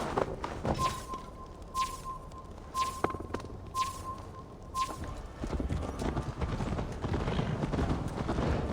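A horse's hooves clip-clop at a steady walking pace in the Viking-era game Assassin's Creed Valhalla, near and clear, with a faint tone and a few soft whooshes over a low outdoor ambience.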